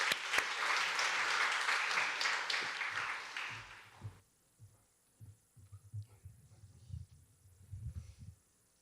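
A burst of applause from a church congregation during a Sunday service fills the first four seconds, then fades into quiet room murmur and faint thumps.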